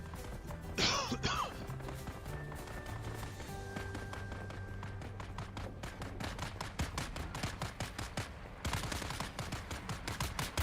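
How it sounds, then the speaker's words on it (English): Gunfire in the Dune Awakening video game, rapid bursts of automatic shots in steady, fairly quick rhythm that continue throughout, moderately loud alongside a sustained game soundtrack and a brief sweeping effect early on. "Man, what's all this shooting going on? Who are they shooting at?"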